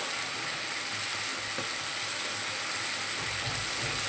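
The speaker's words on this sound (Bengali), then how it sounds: "এবার মশলাটা দিয়ে কষিয়ে নেব খুব সুন্দর করে" Spice paste with cumin and coriander powder fries in a pan for a red amaranth greens and elephant foot yam stalk dish, giving a steady, close, continuous sizzle for the whole stretch with no voices.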